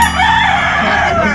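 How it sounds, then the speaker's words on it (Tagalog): A rooster crows loudly and close by, one drawn-out call. "Pati yung manok kumakanta."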